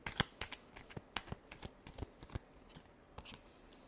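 Tarot cards shuffled by hand in a quiet room, a run of crisp riffling flicks and snaps in uneven bursts, loudest near the start and thinning out toward the end.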